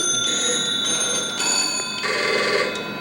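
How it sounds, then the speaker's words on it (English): A bright, sustained ringing tone with several steady harmonics, swelling and shifting pitch slightly across a few seconds, heard alone: a vintage telephone's wooden bell ringer. "That last one is a wooden bell."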